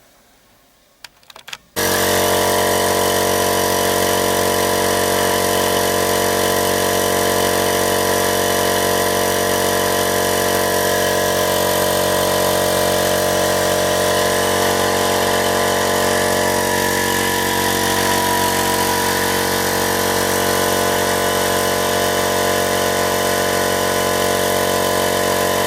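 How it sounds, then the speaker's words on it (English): An air compressor, filling toward its automatic shut-off at 115 psi, starts abruptly and runs loud and steady, a constant close-up motor drone that continues unbroken with no talking. "the main compressor has reached 115 psi and it's after shutting off itself"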